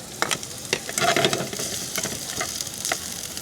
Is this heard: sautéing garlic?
yes